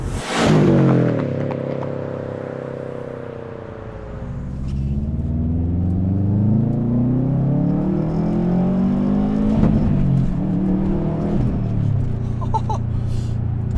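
A Subaru STI engine with a Tomei exhaust revs up and down in long sweeping pulls, loud and near, with the pitch climbing and falling several times.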